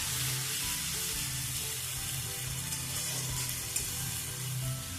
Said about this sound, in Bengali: এরপর আদা ও টমেটোর পেস্টটা দিয়ে দিচ্ছি। দিয়ে খানিকক্ষণ এটাকে ভাজবো যতক্ষণ আদা টমেটোর কাঁচা গন্ধটা না যায়।